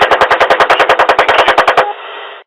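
A machine gun fires one loud, fast burst of about sixteen evenly spaced rounds, then the shots give way to a short, fading hiss.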